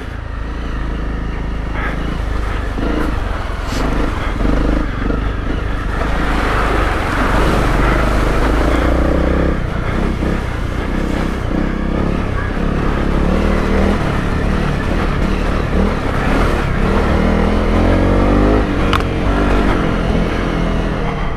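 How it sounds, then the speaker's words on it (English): A Honda CRF250 Rally motorcycle ploughs through mud, its engine droning loud and steady with rising and falling revs throughout, under constant wind and splashing noise. "another one in the mud, and that's the most mud I've ridden in so far on this thing"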